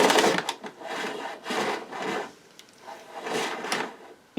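The flex rewind on an unused 1990s Hoover Turbomaster U5096 upright vacuum cleaner drags the cable back in. Repeated close scraping and rubbing bursts come in uneven, sluggish pulls, with no one speaking.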